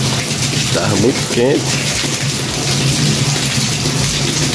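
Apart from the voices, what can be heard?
heavy rain falling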